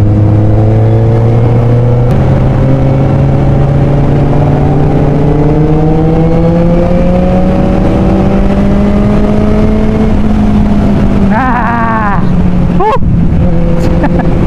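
A Kawasaki Z1000 motorcycle engine revs loudly and close up, its tone climbing steadily through a long pull before a quick sharp blip and a drop near the end.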